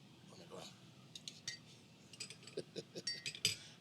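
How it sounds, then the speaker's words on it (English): Two metal spoons skim the scummy crust off espresso during a comparative cupping, giving faint, scattered clinks and light scrapes that grow a little busier toward the end. "we're going to remove that just by using 2 spoons"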